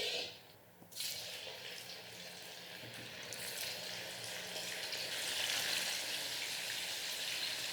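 Tofu dropped into hot oil in a wok over high heat sets off a loud, sudden crackling sizzle after a quiet second, then keeps frying steadily and vigorously.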